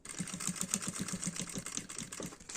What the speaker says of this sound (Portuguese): E vou fazer uma costurinha bem na beiradinha aqui.